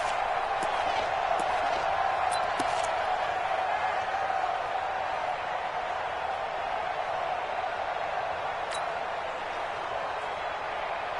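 A stadium crowd in an American football video game roars steadily and loudly throughout as a big third down approaches, a constant broad wash of cheering with a few sharp clicks on top.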